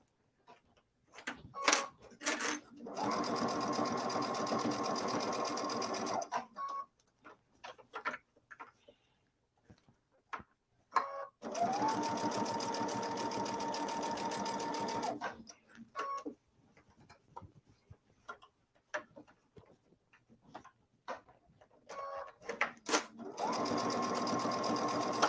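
A sewing machine stitching quilt lining, running in long steady whirring bursts several seconds each, separated by quiet pauses with small clicks and handling noises, fairly close.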